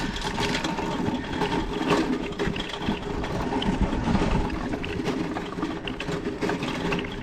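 Electric motor of a replica 1881 Trouvé electric tricycle running steadily throughout with a continuous whirring, mechanical drone and no talk over it.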